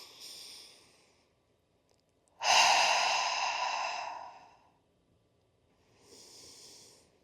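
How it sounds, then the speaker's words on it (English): Deep breathing in a guided relaxation exercise: a soft inhale, then a long, loud exhale lasting about two seconds, and another gentle breath begins. The breaths are close and heard alone, without talk. "Take 3 deep breaths."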